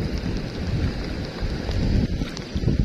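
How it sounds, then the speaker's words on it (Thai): Rain starting up again with gusting wind outdoors in rural Isan, Thailand, a dense continuous wash of noise with buffeting rumble, no voices. "ฝนเริ่มมาอีกแล้วพี่น้อง"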